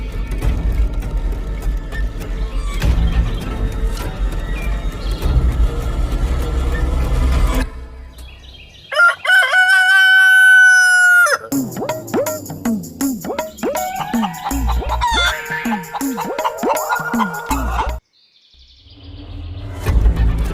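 In a rural Kannada film scene, a rooster lets out one loud, drawn-out crow after a stretch of dull background noise, followed by a run of hens clucking nearby.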